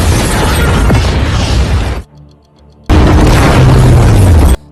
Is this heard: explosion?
yes